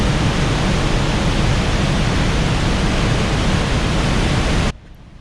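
Trümmelbach waterfalls in Switzerland's Lauterbrunnen Valley rushing as a loud, dense, unbroken roar of falling water that cuts off abruptly near the end.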